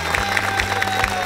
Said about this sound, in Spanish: Le aplaudo la verdad esta noche.